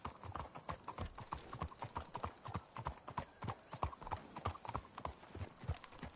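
Horses trot at a steady pace in Red Dead Redemption 2, hooves clip-clopping in a quick, even rhythm, fairly close and clear with no talking.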